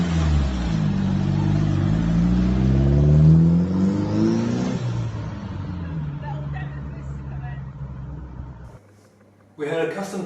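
An MK2 Ford Escort project car laps nearby, its engine revving up through rising pitch sweeps, then easing off and fading, before a brief silence and a sudden burst of sound.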